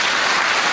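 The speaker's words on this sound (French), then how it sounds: "j'aimerais que nous applaudissions M." An audience breaks into dense, loud applause, a steady wash of many hands clapping together without any voices on top.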